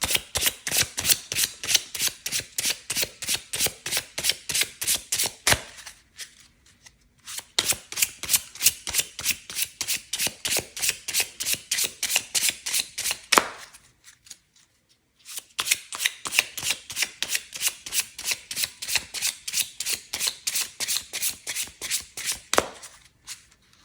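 A new deck of playing cards is shuffled repeatedly up close, each riffle a fast crisp run of flicks lasting several seconds, separated by short quiet pauses and ending in a snap, with no talking.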